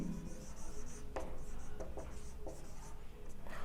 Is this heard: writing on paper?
yes